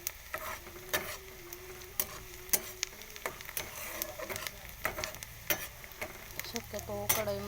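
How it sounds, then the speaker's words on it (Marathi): Food sizzles in an aluminium kadhai while a utensil scrapes and stirs it in quick irregular strokes, loud and close, with faint talk near the end. "चांगलं जरा हलवून घ्यायचं."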